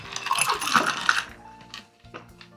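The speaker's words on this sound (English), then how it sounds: "Then we're going to add our ice." Ice cubes clatter into a glass for a gin and tonic, a quick burst of bright clinks and knocks followed by a few softer settling taps, close and alone.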